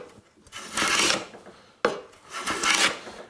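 Two close hand-plane strokes shave a sawn wood bevel, each a rasping, hissing swish of about a second, the second starting with a sharp catch as the blade bites.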